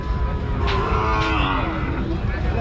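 A Nepali cross-breed cow moos in a long, low, drawn-out call close by at a cattle market in Rajshahi, with background noise around it.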